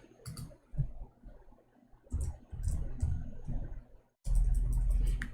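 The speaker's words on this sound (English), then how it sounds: "my keyboard sometimes is not functioning. I have to type it twice." Someone types on a faulty computer keyboard, producing irregular bursts of close clicking and tapping separated by brief pauses, with a louder flurry of keystrokes at the end.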